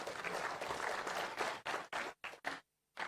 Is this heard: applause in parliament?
yes